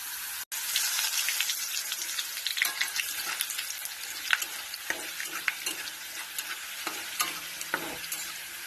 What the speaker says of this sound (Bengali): এখন আমি দিয়েছি ছোট মাছগুলো ভেজে নিচ্ছি